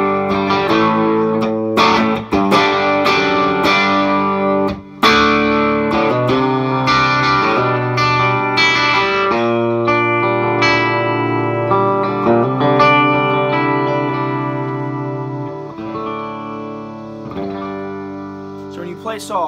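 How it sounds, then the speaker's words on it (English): Electric guitar through an EL84 tube amp and a Hermida rotary reverb pedal, rotary effect off: notes and chords ring out with a lush reverb wash, plucked in a steady, melodic pattern that fades slightly toward the end. "The reverb we're hearing is also a Hermida rotary reverb, and I've just got the rotary effect off."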